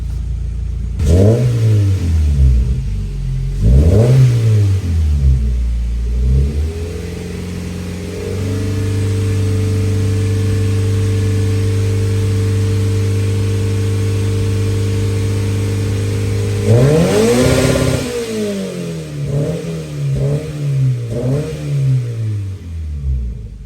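Stage 1 tuned Subaru BRZ engine on a dyno, loud and close: several quick revs rise and fall, then a long steady high-rpm hold, followed by more sharp blips toward redline with no talking.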